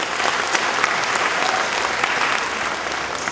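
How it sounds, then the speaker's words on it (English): Audience applause fills a hall at an event honoring film directors, a dense, steady clapping held at full strength throughout with no lull. "You can give them a round of applause."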